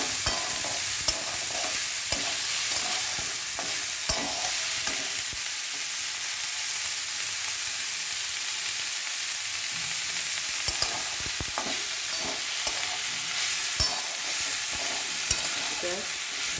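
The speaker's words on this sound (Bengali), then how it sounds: "তেল আর ঘিয়েতে ভালো করে নাড়িয়ে নিয়ে" Chopped banana stem frying in oil and ghee while being stirred, making a steady, close sizzle broken by frequent spatula scrapes and taps on the pan throughout.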